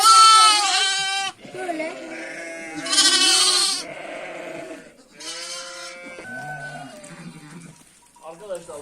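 Sheep on a village farm, ewes that have just lambed, bleat loudly and close in several long, wavering calls, one after another. Lower bleats and faint background noise fill the gaps between them.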